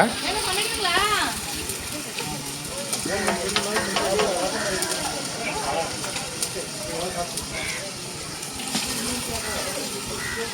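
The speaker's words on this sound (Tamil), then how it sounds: "ரெண்டு கிலோ மட்டன் இருக்குங்க ஸோ அக்கா வந்து மட்டன் போடுறாங்க" Two kilos of mutton dropping into hot oil at a fish curry hotel by Mettur Dam, a steady sizzle with stirring and frying noise under continuous speech.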